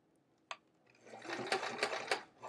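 A sewing machine stitches the handles of a travel art folio, chunking along in a steady, close, rhythmic run after a single sharp click.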